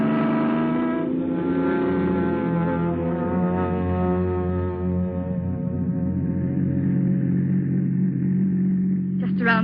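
A car engine rumbles and drives off as a radio drama sound effect, a steady low hum running under voices for the whole stretch.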